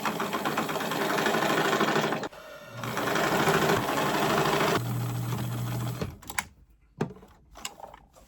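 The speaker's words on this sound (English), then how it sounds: "We have sewn it down." A sewing machine stitches scrap fabric and lining for a bucket bag. The motor drones loud and steady in long runs, pauses briefly, then stops, followed by soft fabric handling and a few clunks.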